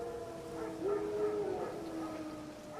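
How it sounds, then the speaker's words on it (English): Wild dogs howl in The Witcher 3 video game, a drawn-out wavering cry rising and falling over a low ambient background, fairly faint and distant. "Wild dogs."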